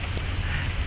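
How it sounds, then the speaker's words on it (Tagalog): Steady rain falling on a rainy day, a dense even hiss close by with no voices over it. "Feel the rain."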